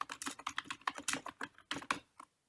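Rapid typing on a computer keyboard, a steady stream of close, crisp key clicks with brief pauses, slowing near the end.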